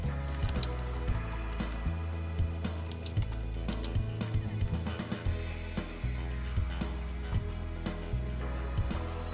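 Quick bursts of computer keyboard typing nearby, uneven clusters of soft key clicks with short pauses between, and no talking.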